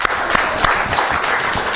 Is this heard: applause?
yes